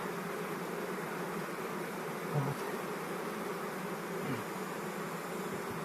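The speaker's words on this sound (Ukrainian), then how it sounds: "Бджіл багато, тому дуже проблемно працювати." Honey bees swarm around an open hive of nine frames during autumn work, making a dense, steady buzz that fills the whole stretch without pause, close and continuous, with no talking.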